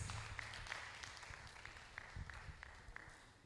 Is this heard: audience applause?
yes